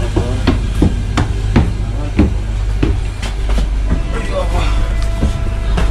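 A loud, steady rumble of a moving train in Paris with rhythmic clacking and knocks repeating about every half second, people speaking Tamil over the noise.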